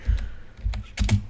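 Several quick keyboard typing bursts on a computer during a VB.NET programming lab, the clicks coming in short clusters with brief pauses between them, close and clear with no talk.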